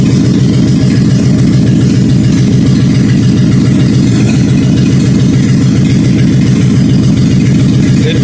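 A loud, rumbling 1956 Ford F100 truck engine idles steadily with open exhaust headers, a choppy, uneven low-pitched burble that continues without a break throughout.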